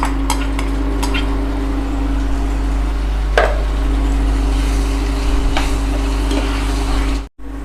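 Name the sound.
stirring crumbled paneer into masala in a pan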